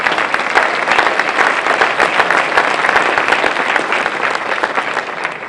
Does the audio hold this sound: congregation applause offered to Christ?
yes